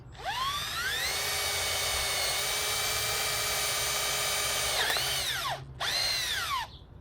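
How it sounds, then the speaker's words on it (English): A power drill bores out a plastic fitting on an Intex Excursion Pro inflatable kayak, whining steadily at high speed for several seconds, dipping briefly, then spinning up again for a short second burst before stopping. "For that, I need to drill out the insides of it."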